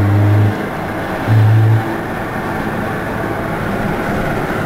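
Car engine revving to around 2500 RPM as the throttle is pressed, heard from inside the vehicle as a loud, steady low drone with two brief deeper surges near the start.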